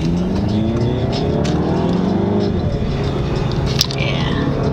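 A car engine under full throttle, a loud rising rev with gear-like pitch sweeps heard close from inside, steady throughout with a brief click near the end and no talk.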